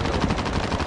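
Rapid gunfire from a sniper battle in the Warzone video game crackles loud and close in a short dense burst of overlapping shots.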